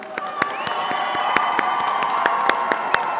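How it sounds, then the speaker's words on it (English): Audience at a fall graduation ceremony on a Fresno campus applauds and cheers steadily, with sharp claps, whoops and crowd noise filling the hall and a faint voice underneath. "Give them all a big round of applause."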